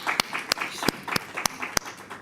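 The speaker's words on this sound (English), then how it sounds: "A big round of applause for her." Scattered, evenly spaced hand claps ring out at a high-level tourism roadshow event in Cape Town, a few sharp claps each second over a low room murmur, thin rather than a full crowd ovation.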